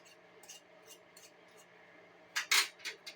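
Screw-on lids twisted onto glass maple syrup jars on a maple farm, with a few faint scrapes and clicks followed by a louder cluster of gritty turning and rubbing near the end.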